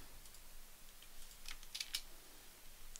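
Computer keyboard typing in a quiet room, a short burst of light key clicks clustered near the middle, faint and close, with no talking.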